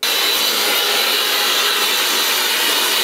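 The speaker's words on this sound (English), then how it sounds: "then we're just gonna snap the concentrator right in and we've got our hair dryer" A Shark FlexStyle hair dryer with a concentrator attached blows on its low fan setting, a steady, loud, close airy whoosh with an even motor whine throughout and no voices.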